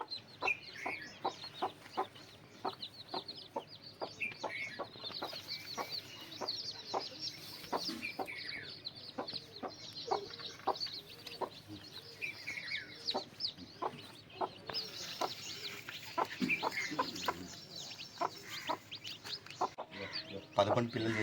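Newly hatched chicks cheep in a steady stream of high peeps while a hen clucks nearby, filling the scene with continuous farmyard poultry chatter up close.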